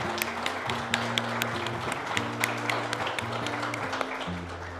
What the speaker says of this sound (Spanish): Un aplauso a mi tío.